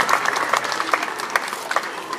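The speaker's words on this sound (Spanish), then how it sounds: "los aplausos para la nueva banda infantil" Brief burst of crowd applause for a new children's band at a band audition in San Pedro Cajonos, steady mid-distance clapping from many hands lasting about two seconds.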